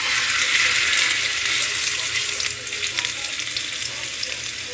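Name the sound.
thick pork chops searing in coconut oil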